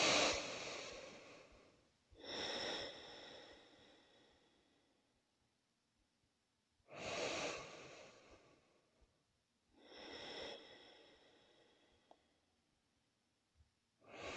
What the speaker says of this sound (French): Encore trois grandes et longues respirations dans la posture de l'enfant.